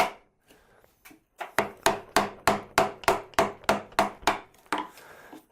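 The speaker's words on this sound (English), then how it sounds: "chop out between those stop cuts, and then stop cut in some more" Chisel struck with a mallet, chopping out waste between stop cuts in wood during carving: about a dozen sharp, evenly spaced knocks in a steady rhythm, close and loud, after a few lighter taps, with no talking.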